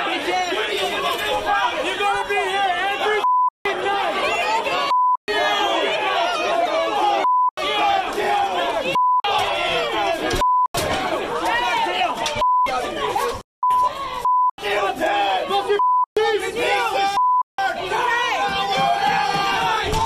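A protest crowd boos and yells in a loud, constant roar of overlapping shouting voices, repeatedly cut by short censor beeps.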